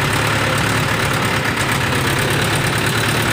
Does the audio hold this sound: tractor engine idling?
yes